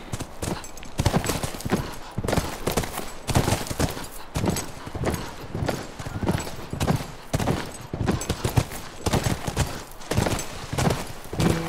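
Horse hooves clip-clop steadily and loudly in the video game The Last of Us, a continuous rhythmic gait of close hoof strikes with occasional thumps and background game ambience.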